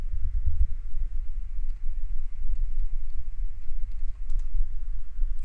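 Slow typing on a computer keyboard produces scattered soft clicks over a steady low rumble, close and fairly quiet, with no talking.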